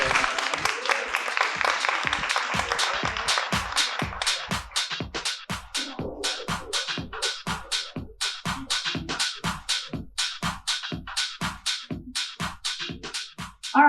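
An audience at a San Diego Swim Week fashion show panel breaks into dense applause, which soon settles into steady rhythmic clapping in unison that keeps going at a brisk, even beat.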